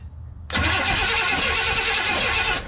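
Starter cranks a Pontiac 400 V8 fitted in a 1954 Ford F100 that sat for twelve years, a loud steady churning whir that runs unbroken for about two seconds and never catches.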